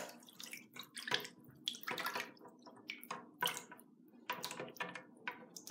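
Bath water splashing and sloshing as someone moves in a tub at bath time, a run of irregular close wet splashes and drips of varying strength, with no talking.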